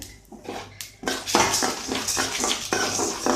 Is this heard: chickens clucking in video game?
no